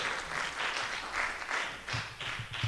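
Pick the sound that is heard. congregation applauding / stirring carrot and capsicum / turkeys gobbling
congregation applauding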